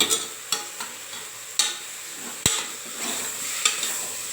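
Tomatoes sautéing in a pan, a soft steady sizzle broken by a few sharp clanks of a spoon against the pan at irregular intervals, close and without speech.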